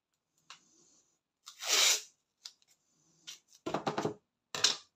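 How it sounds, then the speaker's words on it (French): Masking tape pulled and torn off a roll during a paper craft advent calendar project, giving a few short, sharp ripping bursts close by, the loudest around the middle, with quieter crackles afterward and no talk. "Et pareil, on sort son scotch masquage."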